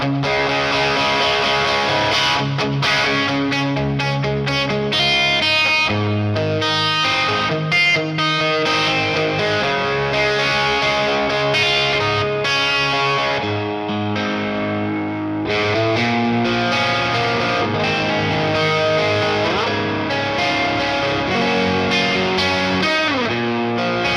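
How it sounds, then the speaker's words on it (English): A modded vintage electric guitar on its bridge pickup, pushed through a Spark booster pedal, gives a loud, driven, slightly distorted tone, with chords and runs played continuously and no voices. "If I put the spark booster on, this is the tone I get on the bridge pickup."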